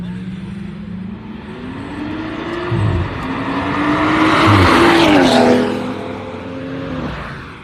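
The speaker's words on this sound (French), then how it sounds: "140i, 135i et Golf GTI. Ça run, ça run." A BMW 140i, a BMW 135i and a Golf GTI drive past loudly, their engines revving with rising and falling tones and a swelling rush as they go by close.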